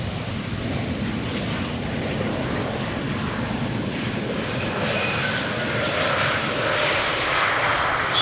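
Airliner landing at Schiphol Airport, a sustained rushing engine roar that swells slightly toward the end, close and steady with no voices.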